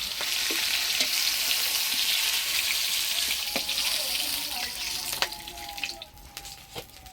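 Deshi magur catfish frying in a pan with a steady, dense sizzle that runs close and loud throughout, broken by occasional sharp clicks and a faint tonal ring near the end.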